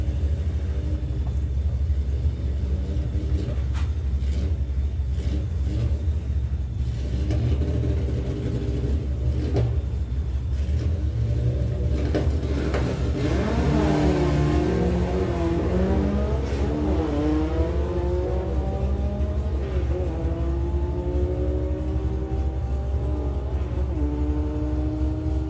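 Four-cylinder drag cars launch down the strip at a drag racing event, engines rising from a rumbling idle into a loud, climbing run with overlapping pitch sweeps, heard from close by.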